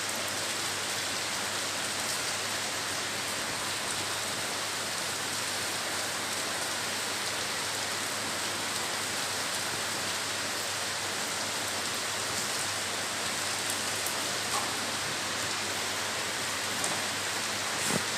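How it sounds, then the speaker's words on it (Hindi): Heavy monsoon rain pours steadily in a hilly area, a dense, even roar of falling water that holds at the same level throughout with no voices. "ये देखिए अभी भी बारिश हो रही है, और बहुत ही ज़्यादा बारिश हो रही है।"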